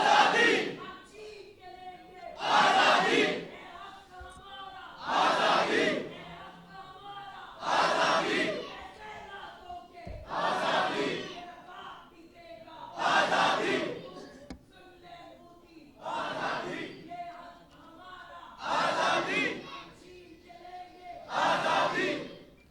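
A large political rally crowd roars chanted slogans back in call-and-response, with a leader's voice calling and the mass of voices answering in regular loud bursts every two to three seconds, repeated about nine times.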